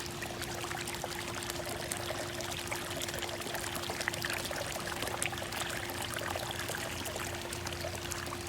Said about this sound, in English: A couple more waterfalls here, so you'll see even though upon appearance the water might look like it's green or brown, it's constantly moving and circulating.